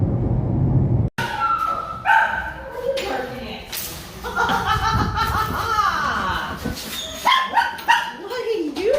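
A dog barks a few times amid people chuckling and talking nearby, with scattered household noises.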